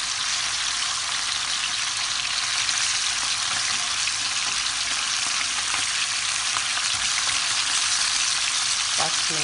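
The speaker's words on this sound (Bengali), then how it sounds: "মাছে ভেজে নেব 5 মিনিটের মতো। এভাবে আস্তে আস্তে উল্টিয়ে দেবো।" Hilsa fish frying in oil, a loud, dense, unbroken sizzle like heavy rain held close to the pan for the whole stretch, with a faint clink near the end.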